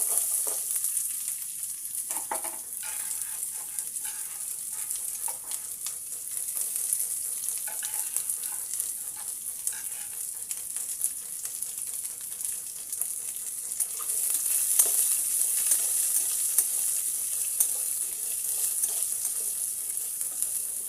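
Chopped onions hit hot oil tempering with chana dal, cumin, mustard seeds and curry leaves for a rava upma made from ration rice. A loud, continuous sizzle and crackle holds steady throughout, with occasional stirring.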